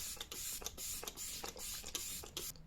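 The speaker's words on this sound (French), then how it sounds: "Je vais mettre du spray fixateur." Makeup setting spray misted from a pump bottle over a face, a quiet series of short hissing puffs in quick irregular rhythm, close to the microphone.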